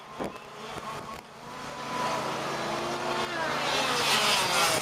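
Fifth-scale race cars roar around the track during the 2017 DeSoto Grand Prix main event, engines buzzing and rising in pitch as they pass, loud and continuous.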